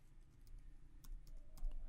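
Computer keyboard typing, with a few light, close key clicks at an irregular pace over a quiet background hum.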